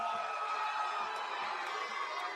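Crowd noise from a live WWE SmackDown wrestling broadcast, a steady loud wash of cheering and shouting voices that holds evenly throughout with no break.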